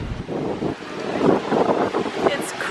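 Strong wind at Disney's EPCOT theme park roaring across the microphone in a steady low rush with swelling gusts, with people talking faintly underneath.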